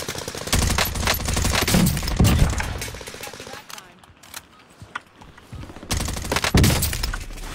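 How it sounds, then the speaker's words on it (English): Rapid automatic gunfire from a buffed gun in a video game, loud and close. Dense bursts of shots give way to a quieter stretch in the middle, then the firing picks up again. "What gun you said they buffed, Gumi? Definitely not this gun."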